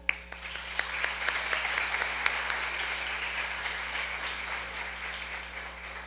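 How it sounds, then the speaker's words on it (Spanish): Sustained applause from a crowd for a writer at a literary talk, dense clapping throughout with a few sharper claps standing out. "Quiero que le demos un fuerte aplauso a nuestro escritor."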